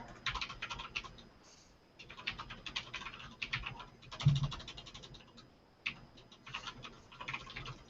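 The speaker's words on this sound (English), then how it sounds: "Let me just type in here" Someone types on a computer keyboard in quick clusters of clicking keystrokes with short pauses between bursts, close and fairly quiet, with no talk.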